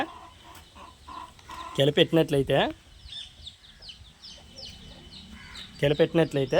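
Hens cluck close by in two quick, loud bursts, with quieter bird chatter and murmuring in between.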